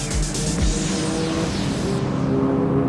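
Classic race cars at speed on a circuit, engines roaring loud and close with a pass-by sweep and brief tire squeal early on, continuous motor drone throughout with no talking.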